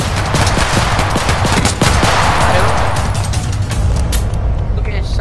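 Rapid gunfire in a realistic Roblox hood game, a loud, steady stream of close automatic shots with someone talking over it.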